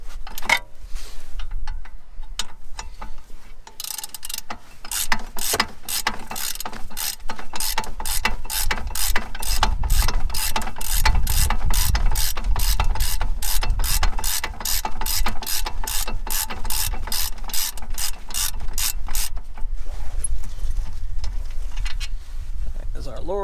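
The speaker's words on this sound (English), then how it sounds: "Ratchet out here." A ratchet wrench clicks in a rapid, steady run of sharp ticks, loosening brake caliper bolts on a Mazda 6 during a front brake job, close and loud over low mechanical rumble.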